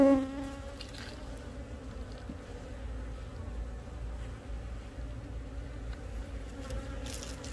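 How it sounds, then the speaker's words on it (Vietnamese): Steady, close buzzing from a busy honeybee colony at its hive, many bees droning together in an even, continuous hum with no voices over it. "Đàn ong rất đẹp."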